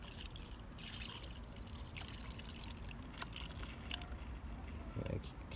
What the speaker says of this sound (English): So we're just topping up the antifreeze now